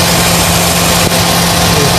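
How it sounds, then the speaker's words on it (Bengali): A Toyota Corolla engine idles close by with a steady low hum and one brief dip in the drone, while an AC compressor is being serviced; no one speaks. "এখন স্টার্ট দিতে হবে ইঞ্জিন।"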